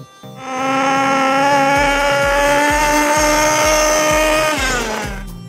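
A nitro-powered Gunner GP V2 RC car engine runs on a track, a loud, high-pitched buzzing whine that rises quickly, holds steady for several seconds with a rapid pulsing beat underneath, then drops off as the throttle closes.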